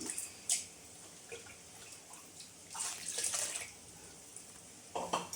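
Water goes into a pot of fish curry (meen kuzhambu) in a short, uneven run of splashes and pours. Brief watery gushes and drips come and go over a quiet background.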